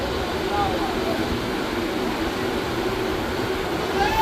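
A passenger train runs near Kolaghat station on the South Eastern Railway, heard from on board. It gives a steady, continuous rumble and rattle with a faint voice in the background.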